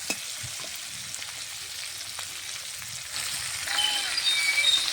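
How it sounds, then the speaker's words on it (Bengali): A fish fries in a pan with oil, a soft, steady crackling sizzle that grows a little louder toward the end, with no voices. "মাছটা সুন্দরভাবে ভাজা হয়ে গেছে"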